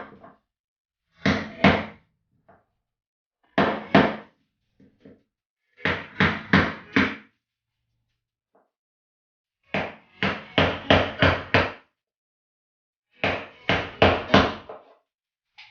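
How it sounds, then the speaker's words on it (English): Hammer blows knock a dent outward from inside a 1995–2000 Subaru Impreza body panel, landing in five quick bursts of three to six sharp metallic strikes separated by short pauses, close and loud. "What I'm going to do is using this tool from the inside and hammer it outwards."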